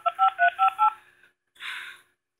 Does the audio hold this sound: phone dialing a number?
yes